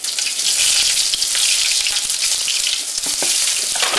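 Garlic and galangal sizzle steadily in hot oil, a dense crackling fry that holds loud and close for the whole stretch with small spits and pops scattered through it.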